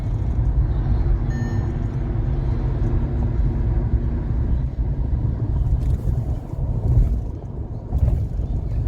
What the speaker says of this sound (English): We are cruising at 95 kilometers an hour and the vehicle is absolutely stable.